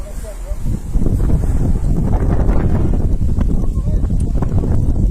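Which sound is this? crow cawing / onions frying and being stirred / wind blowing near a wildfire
wind blowing near a wildfire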